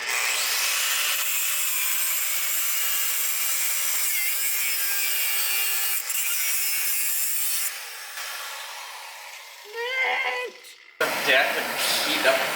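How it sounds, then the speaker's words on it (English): A bolt on an Audi axle is cut with a power tool, a long loud continuous grinding rasp that drops off near the end before a short burst resumes, with voices heard in the workshop. "So since I don't need this axle, I'm just going to fucking cut the bolt, make it a lot easier"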